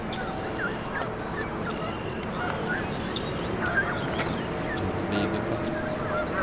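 Geese honking outdoors near a group of young goslings at a park island, with intermittent honks over steady background noise and a voice talking quietly.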